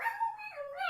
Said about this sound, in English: McFly, what you barking at?